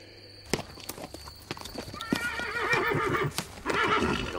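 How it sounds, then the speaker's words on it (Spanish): Horse hooves clip-clopping at a steady walking pace close by, with a whinny and some snorting rising over the hoofbeats toward the end. "¿Pero qué caballo este?"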